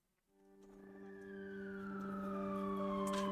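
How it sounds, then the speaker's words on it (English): A siren opens a song, a steady electronic wail that fades in from near silence and holds sustained tones with one slowly sliding pitch, growing louder and filling the whole stretch. "then it begins with a siren"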